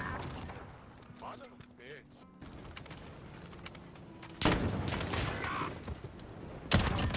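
Video game gunfire bursts out in sharp volleys, loudest in the second half, amid a busy mix of game noise and hum while players talk.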